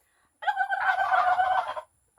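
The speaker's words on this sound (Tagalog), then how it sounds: "Ano tawag? Pabo." A farm turkey lets out one loud, close, rattling gobble lasting over a second, then goes quiet.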